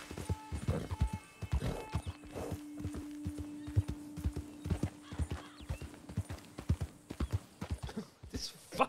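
Steady clip-clop of horse hooves at a brisk walking rhythm, with a brief whinny early on, from the video game Red Dead Redemption.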